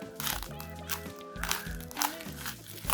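A parcel wrapped in many layers of plastic bag being unwrapped, close and busy plastic crinkling and rustling in repeated bursts, with a voice speaking alongside it.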